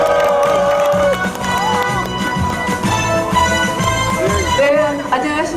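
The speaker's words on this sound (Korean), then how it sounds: "큰 박수로 맞아주십시오." Crowd applause at an outdoor national farmers' rally, cheering and clapping mixed into loud music with a sustained melody and beat, the crowd noise filling the background throughout.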